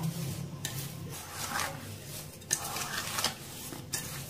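Sugar is stirred into chopped strawberries in a bowl for homemade jam, with a spoon scraping and clinking against the dish in soft, irregular strokes.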